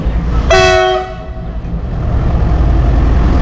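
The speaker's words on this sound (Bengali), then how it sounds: "প্রচুর প্রচুর প্যাসেঞ্জার মালগাড়ি পাস হচ্ছে" A loud train horn blasts briefly, then a heavy rumble of rolling freight cars continues steadily, close by at a station.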